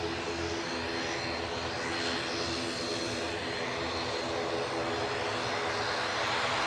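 A propeller airliner departs Manchester Airport for Guernsey, its engines producing a continuous, fairly loud droning roar with layered steady tones, holding constant and swelling slightly toward the end, with no voices.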